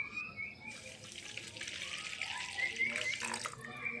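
Water, 200 ml, is poured into a bowl of sweet martabak batter ingredients, a soft, close trickle and splash that runs continuously for several seconds.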